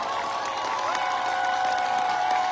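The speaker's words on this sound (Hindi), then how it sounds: "जोरदार जोशीली तालियां, जोरदार जोशीली तालियां।" A crowd claps and cheers continuously, a dense wash of applause with some tonal sound running underneath.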